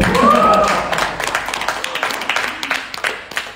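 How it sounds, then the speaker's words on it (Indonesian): Scattered, uneven clapping from the audience at a Ramadan religious lecture, following a brief voice at the start, with sharp individual claps thinning out toward the end. "Coba dia ada tepuk tangan dulu atau hore-hore dulu"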